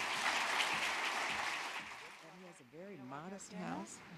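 An audience applauds to welcome a panel at the JCCSF in San Francisco, with steady clapping that fades as a voice starts talking over it.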